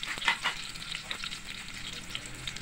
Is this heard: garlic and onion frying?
yes